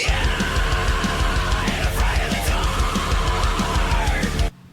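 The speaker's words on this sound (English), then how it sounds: "How to scream vocal fry." A harsh, gritty vocal fry scream held loud and continuous for about four and a half seconds over a driving rhythmic backing, then cutting off abruptly.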